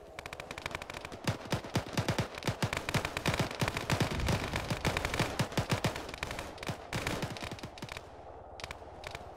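Heavy automatic gunfire from an Arma military video game session, dense bursts of machine-gun fire and rapid gunshots crackling continuously, loud and close, thinning toward the end.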